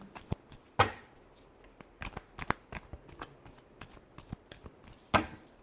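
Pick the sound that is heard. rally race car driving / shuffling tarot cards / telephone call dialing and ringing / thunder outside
shuffling tarot cards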